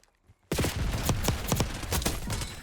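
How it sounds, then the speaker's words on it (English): PP919 submachine gun in Black Ops 6 opens up after a brief near-silence, firing a rapid, loud string of close shots in quick succession. "I shot that guy through the house with the PP919."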